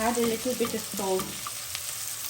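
Onions fry in a pan with a little salt while cooking an oxtail devil fry, a steady close sizzle with stirring, briefly under a speaking voice at the start.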